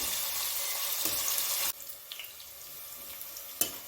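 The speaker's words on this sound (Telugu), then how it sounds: "ఆనియన్స్ గోల్డెన్ బ్రౌన్ కలర్ వచ్చేంత వరకు వేయించుకోవాలి" Onions sizzle and hiss in hot oil as they fry to golden brown for a vegetable biryani. The frying is loud at first, then drops to a quieter simmer with a few faint clinks.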